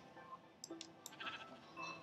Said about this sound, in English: So right now, sheep, come here. I need your wool.